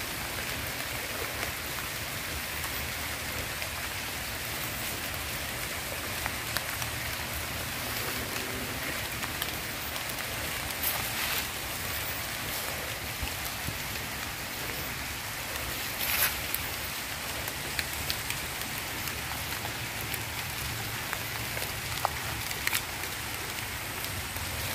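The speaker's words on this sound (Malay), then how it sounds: "Hari hujan renyai-renyai guys." Light drizzling rain on a fishing trip, a steady dense patter of drops on surfaces filling the whole stretch with occasional louder drips and no voices.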